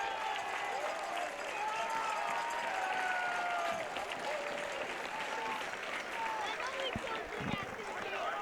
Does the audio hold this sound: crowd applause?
yes